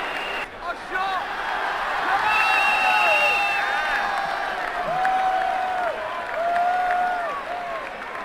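A cricket crowd in the game Brian Lara Cricket 2007 applauds and cheers in the background while a commentator voice talks over it, with steady clapping swelling and fading.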